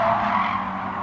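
Race car tires squealing and skidding under hard braking in the racing game GT Sport, one sustained loud screech that fades slightly over about a second.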